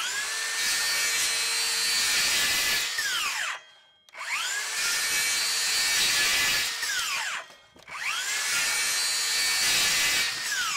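A Dewalt 60V Max Flexvolt 7-1/4 inch cordless circular saw rips through wood three times in a row, each loud, harsh, close cut ending as the blade spins down, with brief near-silent gaps between cuts.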